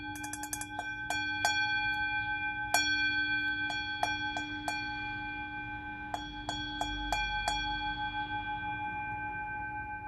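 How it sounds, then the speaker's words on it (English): A small bell is rung repeatedly by hand in an irregular series of bright, sharp strikes, each leaving a sustained shimmering ring, with a steady tone held underneath. "So I'm going to ring the bell."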